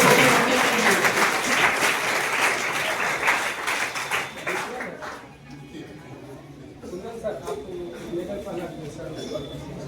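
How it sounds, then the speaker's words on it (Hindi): Audience clapping at a school quiz competition prize ceremony, a dense burst of applause in the first half that fades out, with voices and faint bird coos in the background. "ताली बजाइए"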